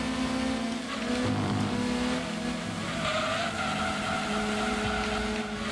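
Racing cars in the video game Gran Turismo 2 hold a steady, sustained engine drone with shifting pitches as several cars run close together, with no voices.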